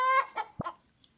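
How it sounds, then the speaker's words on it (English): A chicken gives a loud, drawn-out squawk followed by a few short, close clucks, then quiet. "those chickens are loud"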